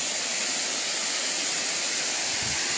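A waterfall on the Bienne river roars as a steady, broad rush of falling water, loud and close, constant throughout with no other sounds or voices.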